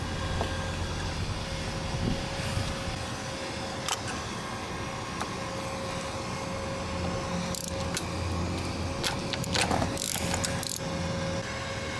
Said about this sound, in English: You need a 15/16 socket to get this nut off